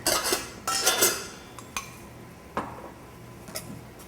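Shrimp tossed into a bowl of flour in a home kitchen, heard as a few soft scrapes and clinks of utensils against the bowl, with bursts near the start and scattered light taps after.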